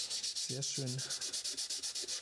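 A wood surface is smoothed by hand with a wetland plant in a violin-making workshop, a steady rhythmic rasping stroke repeating about every tenth of a second, close and continuous, with a brief voice speaking over it.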